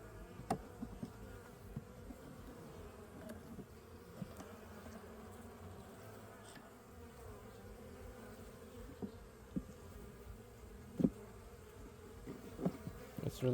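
Honey bees buzz steadily around an open three-frame hive colony, a dense continuous hum with a few louder individual bees passing close by, and no voices.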